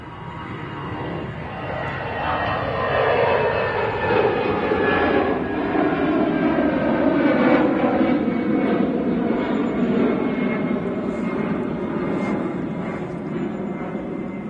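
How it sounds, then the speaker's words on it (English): An Eastern Airways Embraer jet passes at Manchester Airport, its engine roar loud and steady throughout with a gradual pitch shift as it moves by, broad and sustained with no voices heard over it. "Oh, sorry, it was an Eastern Embraer."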